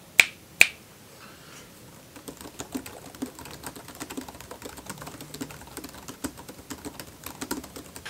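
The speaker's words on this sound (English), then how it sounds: "I actually really like the typing experience on this keyboard" Typing on the keyboard of an UPERFECT UDock X14 Pro lap dock, a steady run of close, crisp tactile key clicks following two sharp snaps at the start, with no voices.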